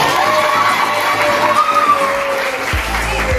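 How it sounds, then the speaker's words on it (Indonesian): A high-school history class applauds itself, bursting into lively clapping with excited shouts and whoops from students, loud and close. "Tepuk tangan untuk kita."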